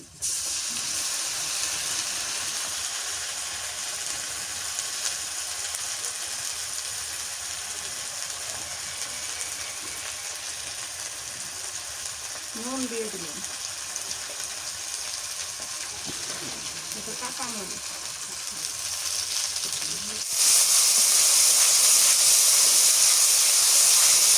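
Spices sizzle in hot oil for a potato and Malabar spinach curry, a steady close frying hiss that runs throughout and swells louder near the end.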